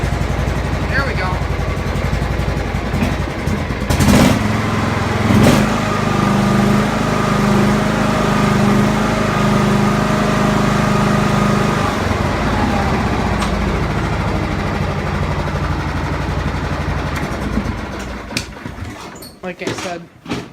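A tractor engine on low idle with its choke set, running loud and steady close by in a rough continuous rumble that fades out toward the end.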